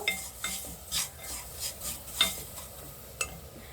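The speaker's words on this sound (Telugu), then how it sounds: "బెల్లం ఈ విధంగా మెల్ట్ అవుతూ ఉంటుంది" Jaggery melting in a hot non-stick kadai while a spoon stirs it, soft repeated scrapes and light clinks over a faint sizzle, close and quiet, with no talking.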